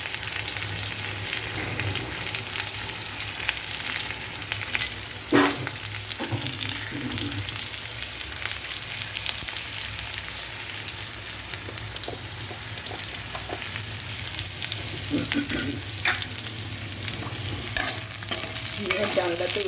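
Potatoes fry in hot oil in a pan over raised heat, with green chillies for an egg curry, while a utensil stirs them in steady, repeated scrapes beneath a continuous close sizzle; no one speaks.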